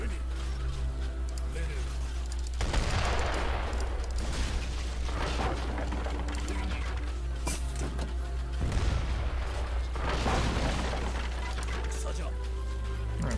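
A war video game battle with mortar blasts and gunfire: distant booms and crackling volleys rise and fall over a steady low drone, with a voice speaking over it.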